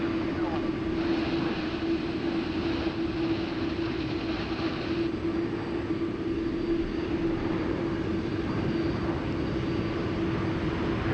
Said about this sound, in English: we'll move around to the Malaysian Flight 123. It's going to be parking nearby us here on the Intel 1 apron